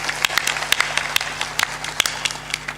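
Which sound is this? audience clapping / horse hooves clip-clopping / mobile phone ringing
audience clapping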